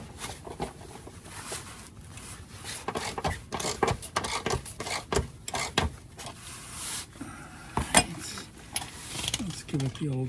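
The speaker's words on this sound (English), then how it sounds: "I got my torque wrench handy" A torque wrench ratchets in repeated bursts of clicking while tightening sway bar bolts on a VW Vanagon T3, close up, with scrapes and clunks of metal between strokes.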